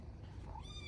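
A barn cat gives a single short meow, close and fairly clear, rising at the end with low rumbling background noise.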